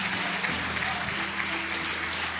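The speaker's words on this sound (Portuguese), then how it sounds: "vamos aplaudir o Senhor Jesus pelas pessoas que estão vindo." A church congregation applauds together in a sustained, even burst of clapping that fills the room, steady and fairly loud for the whole stretch.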